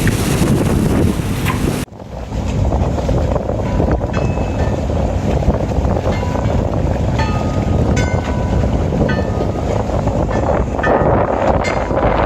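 A heavy-duty tug boat motors up a channel near Sandy Hook on the New Jersey coast, its engine a steady low drone under strong wind buffeting the microphone aboard a sailboat.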